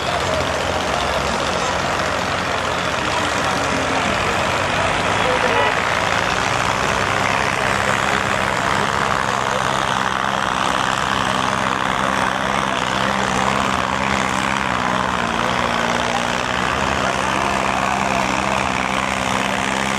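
A tractor engine roars steadily at a village tractor-pulling contest, a loud continuous drone with crowd and announcer noise blended in.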